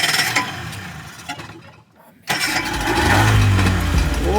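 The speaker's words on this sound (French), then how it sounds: "Bon, Anto va nous partir sur le moteur." Outboard boat motor on a Quebec musky fishing trip, coughing through a failed start, falling briefly quiet, then catching and settling into a steady near idle.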